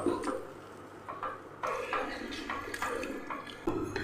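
Dosa batter stirred together with coconut milk in a pot, with soft wet sloshes and light clinks of a spoon against the vessel in an uneven rhythm, close and fairly quiet.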